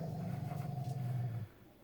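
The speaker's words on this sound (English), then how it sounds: "You hear my dogs growling at each other?" Dogs growl at each other in a low, continuous rumble, faint and somewhat distant, that stops abruptly near the end.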